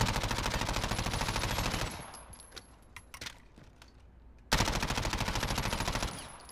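Video game gunfire in a recoil test, a rapid automatic burst of near, loud shots, a short pause with a few scattered clicks, then another sustained burst.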